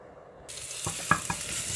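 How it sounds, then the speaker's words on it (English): Garlic sautéing in oil in a pan for a chicken yoghurt dish, a soft steady sizzle starting after a short quiet moment, with a few brief stirring clatters of a utensil against the pan. "Now I saute the garlic"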